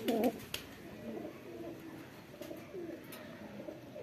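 Mirab-breed pigeons kept as a pair by a fancier, cooing in soft low throaty phrases that repeat several times, close by, with faint background noise.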